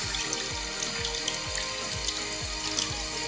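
A bathroom tap runs water into a Barbie Dolphin Magic doll toy. The stream is steady and close, with a rhythmic gurgling pulse repeating about three times a second.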